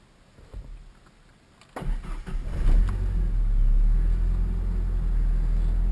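Ford Ranger engine cranks and fires after a new alternator is fitted, a brief starter whir catching into a loud, close, steady low idle rumble.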